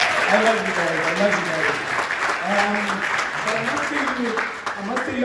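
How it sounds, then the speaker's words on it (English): An awards-ceremony crowd claps continuously and fairly close, a dense wash of applause that runs under someone speaking over it for the whole stretch. "if you can give them a round of applause"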